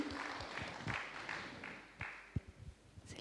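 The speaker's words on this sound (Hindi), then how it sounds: "ज़ोरदार तालियाँ डॉक्टर देवयानी बहन के लिए।" An audience claps at an indoor gathering, a scattered, faint patter of hand claps with a few sharper close ones, thinning out toward the end.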